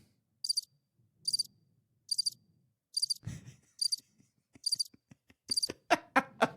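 Cricket chirps used as a sound effect come in short, evenly spaced bursts, several in a row. A faint low thud arrives partway through, then voices speak over the last chirps.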